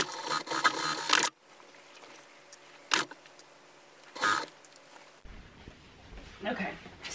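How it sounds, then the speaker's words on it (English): An electric sewing machine stitches across the corners of fabric for a small-animal carrier bag with mesh sides, running in several short, close, whirring bursts separated by quiet pauses. "go over to your sewing machine and stitch across those corners right at the edge"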